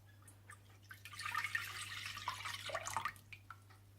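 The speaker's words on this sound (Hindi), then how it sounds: "सबसे पहले आप ऑरेंज जूस डाल लें।" Orange juice poured for marmalade makes a faint, steady liquid trickle and splash lasting a few seconds over a low background hum.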